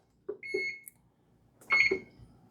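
A kitchen timer beeps during home cooking of a lunch of cabbage, salmon, potato patties, corn and apple cobbler: two short, close electronic beeps, a pause, then a longer beeping burst, clear and alone.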